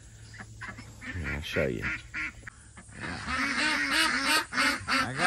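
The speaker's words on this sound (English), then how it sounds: "I got the ducks coming to visit me." Ducks quack loudly and close by in a backyard beside a garage, a rapid, overlapping run of honking calls, with someone speaking briefly over them.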